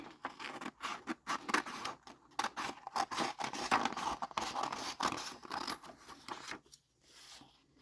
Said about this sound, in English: I'm going to do the main cutting first